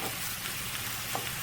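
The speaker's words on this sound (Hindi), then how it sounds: "इसको हम लाइट ब्राउन कर लेंगे।" A medium onion frying in a pan for shakshuka, browning lightly, gives a steady soft sizzle and crackle that runs alone and fairly quiet throughout.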